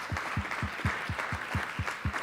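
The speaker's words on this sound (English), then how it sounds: "let's give this dynamic panel another round of applause" An audience claps for a panel discussion at a faith and genomic research event, the clapping coming in a regular, fairly sparse rhythm of distinct claps that carries on evenly.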